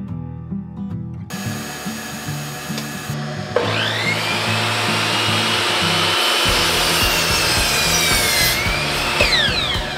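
A power saw cuts two braces from a length of wood for a home-built gym bench, starting with a motor hum and then a loud, steady rasping cut that continues to the end.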